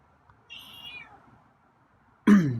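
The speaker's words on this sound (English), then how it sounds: "So your meows are still a little on the quiet side." A feral cat gives a soft, short meow, then a louder, clearer meow a couple of seconds later, with a quiet outdoor background.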